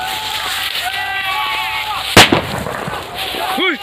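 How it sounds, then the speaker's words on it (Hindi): A firecracker bomb goes off once with a sharp, loud bang about midway, while voices shout and chatter before and after it. "गाइस देख सकते हो हमारा भाई बम बजाने वाला है।"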